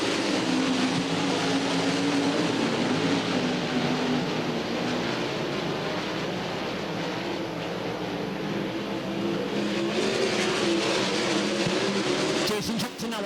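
World of Outlaws sprint cars race wheel to wheel on a Baytown, Texas dirt track, engines roaring in a loud continuous blended drone with shifting pitch, while an announcer calls the race over it.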